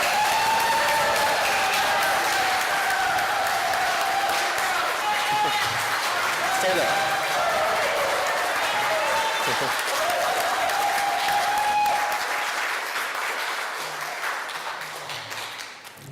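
Audience applause at a civic club luncheon meeting, loud sustained clapping from a full room lasting about twelve seconds before fading out, with a voice briefly speaking over it.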